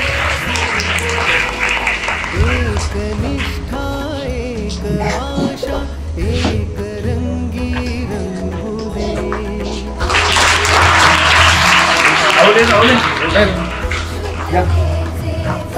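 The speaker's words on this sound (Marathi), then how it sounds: "सर्वांनी टाळ्या वाजवायच्या आहेत." Audience applause at a school welcome during a Maharashtra padyatra event, steady clapping throughout that swells louder in the second half, heard over a faint background tone.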